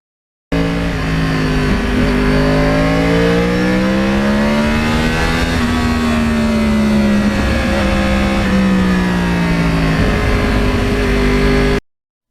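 A 2009 Yamaha R1 crossplane motorcycle engine revs loudly and close for about eleven seconds, its pitch rising and dipping smoothly through the throttle, with no one talking.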